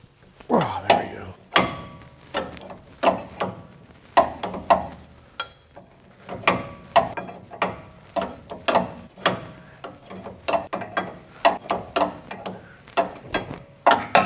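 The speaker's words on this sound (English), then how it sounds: "We're gonna get down here with this 40 millimeter wrench and break these loose." A 40 millimeter wrench breaks loose tie rod nuts on a GM truck, giving a long series of sharp metallic clicks and thunks in an uneven ratcheting rhythm, close and fairly loud.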